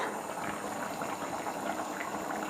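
Rohu fish curry bubbling steadily in a pot on a gas stove, a continuous soft boil with dense hissing and small pops at close range, no voices.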